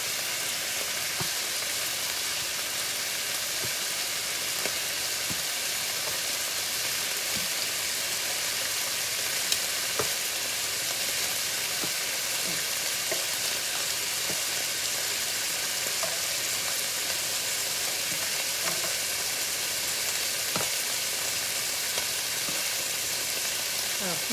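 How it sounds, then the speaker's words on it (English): Steady, crackling sizzle of beef and broccoli frying in a hot pan, continuous and fairly close, with occasional sharper pops and faint stirring. "I know you guys can hear that sizzling going on in here."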